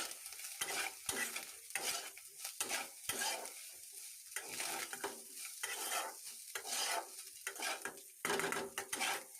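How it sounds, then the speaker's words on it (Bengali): Fried rice with ground cumin and garam masala being tossed in a pan, heard as repeated loud scraping strokes of a spatula on metal over a light sizzle, in a steady rhythmic series of bursts. "জিরা গুঁড়ো গরম মশলার গুঁড়ো দিয়ে আবারও কিছু সময় ভালোভাবে নেড়ে চেড়ে নেব"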